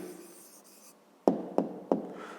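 An answer to a fifth-grade maths exercise is written out in three short, firm strokes that tap crisply and close, each ending in a brief fade, after a quiet stretch.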